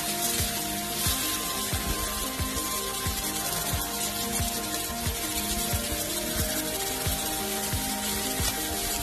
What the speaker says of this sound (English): Let's just flip them over. They'll cook here for about a couple minutes.